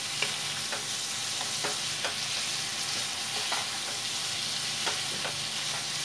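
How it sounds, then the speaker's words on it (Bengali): Fried pointed gourd and potatoes being stirred with spices in a pan for a Bengali prawn dish, with a steady sizzle under repeated scraping clicks of a spoon against the pan. "ভাজা পটল আর আলু এভাবে গা মাখা মাখা করে নিতে হবে মশলা দিয়ে।"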